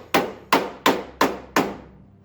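A hood pin mount torn on an AE86 is hammered flat: five sharp, evenly spaced metal blows ring out up close, each decaying quickly, with no talking.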